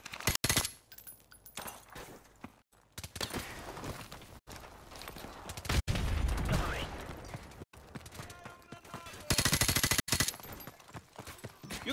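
Gunfire in the video game Call of Duty 4: Modern Warfare, scattered shots and bursts amid game noise and voices, with abrupt cuts and a louder rapid burst near the end.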